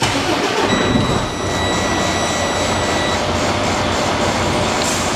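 A Freightliner 3-axle truck's engine starts and settles into a steady, loud idle, a dense continuous rumble with a faint high whine over it and no talking.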